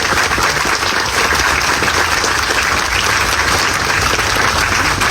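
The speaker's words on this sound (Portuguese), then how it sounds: "Salva de palmas pela vida do nosso grande patriota Clérison." A crowd at a political event claps steadily and loudly for about five seconds, a dense, even wash of applause with no pauses.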